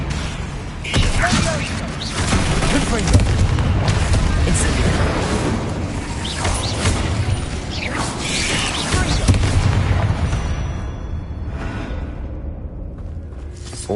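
Spell blasts from Confringo and Incendio in Hogwarts Legacy on PS5, a run of booming explosions and fiery whooshes that keep going under steady game background noise.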